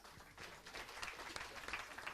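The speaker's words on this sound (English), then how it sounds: "Big applause for them, Hiltrop and Smith." Spectators at a women's 10m air rifle standing final clap for two athletes, a faint, scattered patter of applause from a distance with no talk over it.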